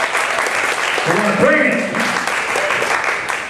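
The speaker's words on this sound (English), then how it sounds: "Let's give a big round of applause for Eric Fritzius." Audience applause at a West Virginia Writers conference entertainment show, steady clapping from a crowded room with a voice speaking briefly over it.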